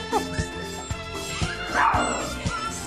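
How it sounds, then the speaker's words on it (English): Puppies in a pen yip, whimper and give small barks in quick repeated bursts, close by, with a person's voice now and then underneath. "I think Bentley is the only one that don't bark at me yet"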